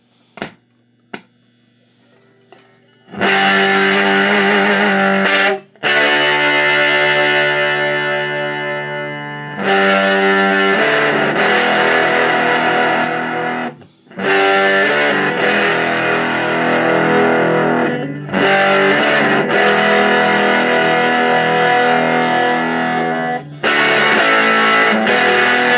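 Electric guitar through an Indigo Labs 510-11 Valpro amp with heavy distortion, loud chords and riffs played in several bursts separated by brief pauses, after a few quiet muted picks at the start.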